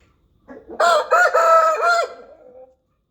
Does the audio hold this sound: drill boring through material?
no